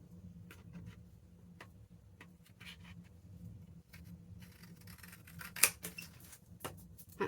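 Scissors trimming across the edge of a paper bag for a junk journal, giving soft crisp snips and rustling paper at close range, with a few sharper clicks toward the end.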